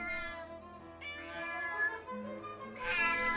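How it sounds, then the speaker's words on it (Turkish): A cat meows in a Turkish fairy tale, a few drawn-out, wavering cries one after another, fairly close and clear, with no talking over them. "Bu sefer de çobanlar bir kedi dövermiş."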